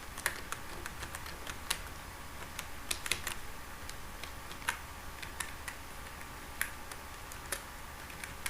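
Quiet, close keystrokes on a computer keyboard while HTML code is typed, an irregular patter of soft clicks with brief pauses and no talking.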